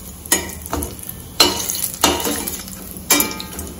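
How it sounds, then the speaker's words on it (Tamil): Spices for a potato cauliflower kuruma, including fennel seeds, fry in oil in a pan with a steady sizzle. A spoon scrapes and stirs in several distinct, close strokes, and no one speaks. "முதல்ல இது நல்லா கொஞ்சம் பொரியுது பாருங்க"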